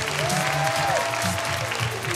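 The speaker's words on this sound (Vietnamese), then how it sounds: "Và hãy dành một tràng pháo tay để chào đón chị Lý Minh Phương Quỳnh" Audience applause welcoming guests onto stage at a Vietnamese corporate talk event, a sustained, dense clapping from a crowd, loud and continuous throughout, with a faint tonal sweep partway through.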